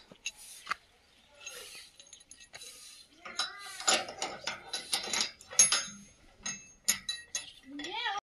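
A door lock is fastened with a series of close metallic clinks and ratcheting turns of the mechanism, while voices talk over and between the sounds.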